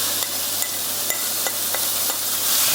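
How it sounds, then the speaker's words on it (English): Beef mince hitting a hot pan sprayed with low-calorie oil spray, producing a bright continuous hiss with a few sharp clicks and scrapes, close up and with no talking. "I'm gonna chuck the mince on that, get that cooking"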